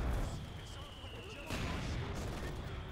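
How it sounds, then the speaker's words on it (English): Two 120mm mortars fire in a Company of Heroes 2 4v4 match, with a continuous rumble of distant battle and a sharper burst midway, under a dense wash of game noise. "double 120mm mortars opening fire"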